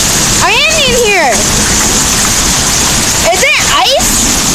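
Hail pelting down in a steady, dense roar of hard patter close by, with voices talking over it in short exchanges near the start and end.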